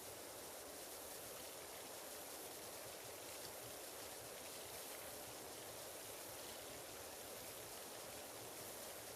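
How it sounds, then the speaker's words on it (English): Water sprays steadily from a pressure washer in the video game PowerWash Simulator, a constant soft hiss with no motor noise and no pauses, quiet and even throughout. "In this particular one, yeah, you just hear the water spraying."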